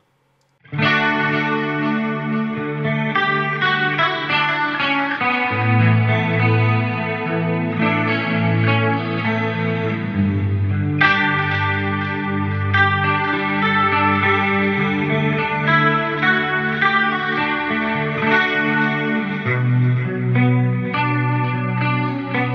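A clean electric guitar channel, colored but not compressed by a Warm Audio WA-2A tube compressor, plays chords and melodic lines with a smooth, even, slightly warm tone, continuous and upfront with no talking.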